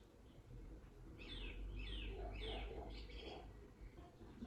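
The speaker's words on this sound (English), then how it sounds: "I think there's some more of a white noise with some traffic and bird." A wake-up light plays a soft soundscape of white noise with faint traffic rumble, while a few bird chirps repeat in a quick sequence over the steady hiss.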